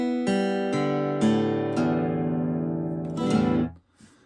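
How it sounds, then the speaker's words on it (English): Acoustic guitar in E standard tuning, open strings plucked one after another from low to high, each ringing on and overlapping, ending with a quick strum that is damped and fades out, close and clear with no talking. "first things first, just make sure that your guitar is in E standard tuning"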